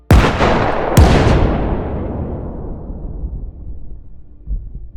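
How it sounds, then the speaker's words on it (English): A powerful bomb detonates near a house in a war zone with a sharp, heavy blast and a quick second crack, followed by a long rolling rumble and debris that fades over several seconds, with no voices. "Afterward, the bomb is detonated."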